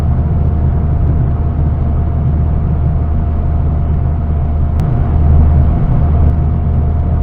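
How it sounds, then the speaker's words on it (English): Boosted Saab with added 2.5-inch rear mufflers cruising on the road, a steady low engine drone and road rumble from inside the cabin, even and fairly subdued with a slight swell near the end. "Now we're cruising and the car isn't obnoxiously loud"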